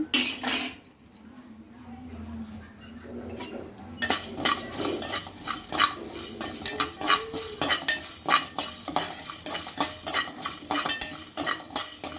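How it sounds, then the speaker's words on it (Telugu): Bay leaves and coriander seeds dry-roasting in a pan without oil, stirred with a metal spoon that scrapes and clinks steadily against the pan, quieter for the first few seconds, then busier and louder, with no talking. "దీన్ని బాగా ఆయిల్ లేకుండా ఫ్రై చేసుకోవాలండి."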